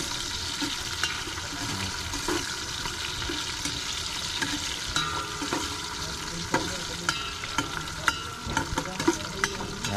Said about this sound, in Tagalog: Ginisang luya.